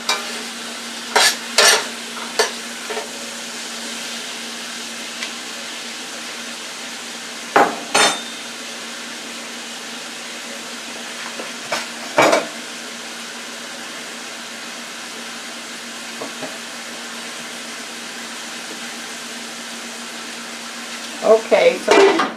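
Peppers and onions fry in a pan, with a steady low sizzle and a handful of scattered scraping clinks as a utensil stirs them against the pan.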